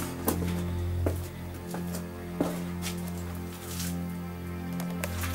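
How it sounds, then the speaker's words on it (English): Water drips in a damp underground chalk tunnel shelter, sparse echoing drops landing irregularly over a low steady hum. "You hear the water down here."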